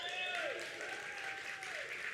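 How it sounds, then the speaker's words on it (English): Audience applause at a charity gala, a steady wash of many hands clapping in a large room, moderately loud, with a voice speaking over it. "yeah, go ahead, you can clap."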